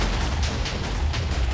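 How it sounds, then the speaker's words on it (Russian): Explosions go off in Minecraft, a run of dull booms and bursts in quick succession that stay loud and rumbling, with no voices. "уже давным-давно блоков нет, но все равно что-то взрывается по инерции"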